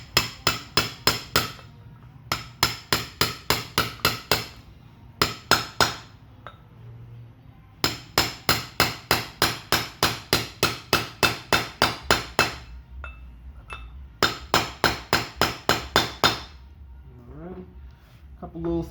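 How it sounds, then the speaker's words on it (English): Repeated metallic taps from a hammer driving a bearing in with a socket on its outer ring during work on a Tornado 250cc, falling in quick bursts of eight to twelve sharp strikes separated by short pauses, close and loud. "Make sure that it fits basically just on that outer ring. We'll go ahead and tap it in."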